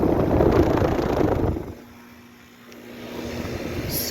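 An American Standard air conditioner unit with a fan motor runs outdoors, a steady broadband whoosh that is louder at first, then drops to a low hum with a faint tonal drone before building again.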